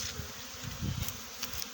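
Honeybees swarming in a tree buzz steadily while being caught into a hive frame, with a low droning hum and a few brief higher flickers over 2 seconds.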